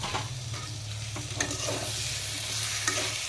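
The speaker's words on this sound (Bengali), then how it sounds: "তো এই মুহূর্তে এখন আমি মাংসটাকে কষে নেব।" Chicken pieces sizzle steadily in hot spiced oil in a pan while a spatula stirs and scrapes them, giving a continuous close frying hiss with occasional clinks of the utensil.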